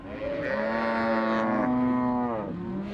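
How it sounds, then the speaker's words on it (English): A cow from a herd of about 400 beef cattle on a farm lets out a single long, loud moo that rises and then falls away, with quiet outdoor background and no talking. "As the Kennedys round up their last 400 head of cattle for this year"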